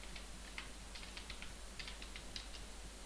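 Computer keyboard typing in quick bursts of close, light key clicks over a low steady hum.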